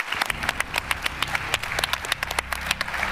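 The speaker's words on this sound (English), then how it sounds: "please applause our panel" Audience applause for a panel on global connectivity in space and on Earth, a steady patter of many hands clapping at moderate loudness with sharper individual claps standing out throughout.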